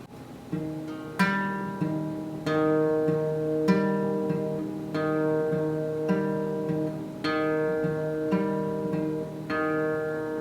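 Plucked acoustic guitar notes in a steady repeating fingerpicked pattern, chords ringing out one after another, close and clear with no voices.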